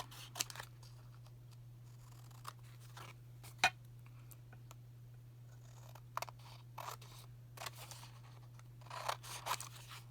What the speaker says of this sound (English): I'll trim it to meet the edges of my tag